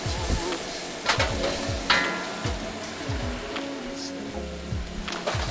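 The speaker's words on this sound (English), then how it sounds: "if you listen, there's not quite as much sizzling happening in the wok right now." Onions and chicken for kung pao chicken sizzle in a wok with a steady close crackling hiss, broken by scraping stir sounds and a few sharp pops.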